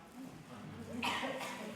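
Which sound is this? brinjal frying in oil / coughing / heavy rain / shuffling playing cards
coughing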